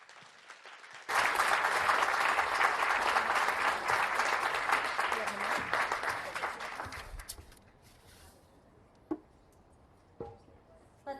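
An audience at a speech event applauds for Maria Blanco, a sudden full round of clapping that holds steady for several seconds, then thins out to scattered claps and quiet.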